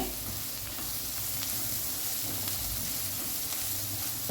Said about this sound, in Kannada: ಸರಿ, ಇದು ಫ್ರೈ ಆಗಲಿ. ಗ್ಯಾಸ್ ಹೈ ಫ್ಲೇಮಲ್ಲಿ ಇರಲಿಕ್ಕೆ ಹೋಗಿ ಬೇಗ ಫ್ರೈ ಆಗ್ತದೆ. ಮೆಣಸು, ಕೊತ್ತಂಬರಿ, ಜೀರಿಗೆ ಎಲ್ಲ.